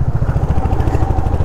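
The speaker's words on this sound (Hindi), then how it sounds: "भाई चढ़ जा चढ़ गई बाइक मेरी" Bike engine labouring up a steep, broken mountain road near Mussoorie, a loud, close, steady throbbing drone with a pulsing low beat and no talk over it.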